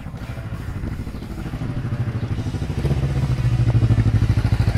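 Motorcycle engines at a biker event rumbling and growing louder as they approach, a pulsing mid-pitched drone.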